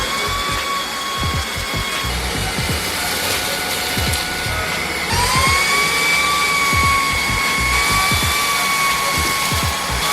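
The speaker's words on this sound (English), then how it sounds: "it looks like the vacuum devoured everything" A Mi handheld vacuum cleaner whines steadily while sucking up crushed fried garlic, hair, breadcrumbs, rice and shredded toilet paper, its high motor tone rising in pitch partway through amid repeated rattling clicks of debris.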